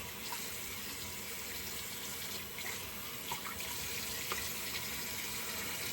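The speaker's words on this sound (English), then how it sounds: "you rinse this out in the sink with some warm water" A kitchen or bathroom sink faucet runs steadily with warm water, rinsing a shaving brush and lather bowl, a continuous soft hiss and splash with faint clinks, no voices.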